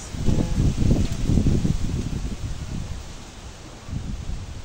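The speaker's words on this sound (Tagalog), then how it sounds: "lamig ang simoy ng hangin." Wind gusts through plant leaves, a rough rustling and buffeting that swells and fades, close to the microphone and fairly loud, with no voices.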